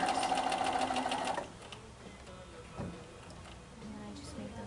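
Sewing machine stitching curved quilt fabric pieces, a rapid steady mechanical whir for over a second that then stops, followed by quiet handling of the fabric and a soft bump.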